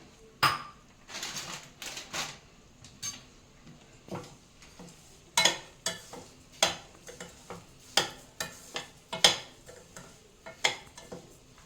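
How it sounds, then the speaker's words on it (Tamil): Semolina (rava) roasting in a pan over a low flame, with a spoon repeatedly scraping and clinking against the metal in an uneven stirring rhythm, close and fairly loud, no talking. "ரவை வாசனை வர வரைக்கும் வறுக்கணும்."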